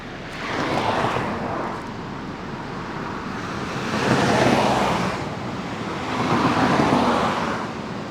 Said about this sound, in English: I could probably listen to those waves